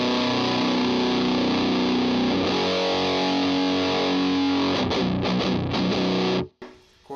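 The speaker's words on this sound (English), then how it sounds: "you still got a nice distortion. Sounds really good" Electric guitar through a drive pedal set for heavy distortion, with a loud sustained chord ringing for several seconds, then choppy, stuttering strums before cutting off abruptly.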